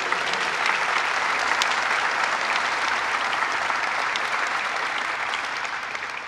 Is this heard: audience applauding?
yes